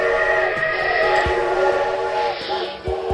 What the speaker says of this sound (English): Everything you have to stop until this train goes past and goes around that way.